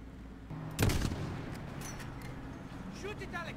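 Rapid gunfire and explosions in the Modern Warfare 2 video game, with a sharp loud blast near the start followed by sustained crackling fire and shouted voices over the top.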